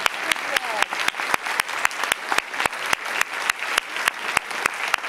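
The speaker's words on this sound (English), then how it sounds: "I want you to join me in clapping" An audience claps together for a row of speakers taking a bow at a talk on grocery stores as community anchors, steady close applause with sharp regular hand claps and a low crowd murmur underneath.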